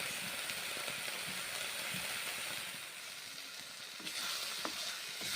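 Fish masala sizzles in mustard oil for a Bangladeshi-style rui fish curry with tomato, a steady close hiss with small crackles and a few soft stirring knocks, with no voices.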